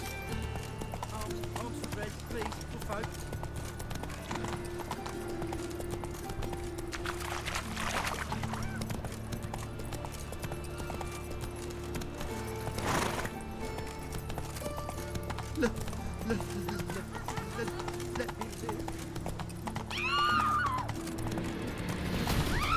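Roach the horse gallops in The Witcher 3, hooves clip-clopping in a steady rhythm over a continuous musical and ambient game backdrop, with a brief whinny near the end and someone talking over it.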